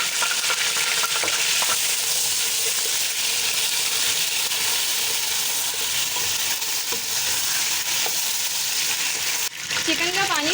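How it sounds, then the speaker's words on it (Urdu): Chicken pieces fry loudly in a karahi while being stirred, a constant bright sizzle with scraping and clinking of the spoon against the pan, close and dominant throughout. "اس کو ابھی تھوڑا سا بھونیں گے جب تک یہ تھوڑی سی وائٹ ہو جائے گی"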